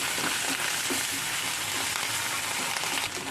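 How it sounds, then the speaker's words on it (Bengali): Ginger, garlic and chili paste fries in oil in a pan, giving a steady, dense sizzle that holds close and even throughout with no talk. "দেখুন এটা ভাজা ভাজা মতন হয়ে গেছে, তেল ছেড়েছে"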